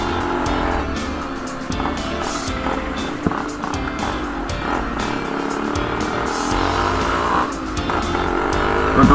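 A Yamaha RX135 two-stroke motorcycle with an overhauled engine and disc brake setup runs loudly and close, its buzzy engine note rising and falling through repeated revs over several seconds.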